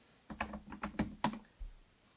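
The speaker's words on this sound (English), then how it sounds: "From there, I'm going to go ahead and type in my ID," A quick burst of about eight keystrokes on a keyboard while entering an Apple ID, close and fairly quiet, in an uneven rhythm with a soft thump at the end.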